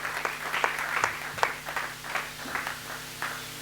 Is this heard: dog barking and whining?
no